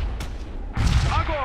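Tank gun fire in the Theatre of War video game, set in the Battle of Moscow, December 1941: a sharp blast early on, then a louder booming report with lingering rumble, close and heavy.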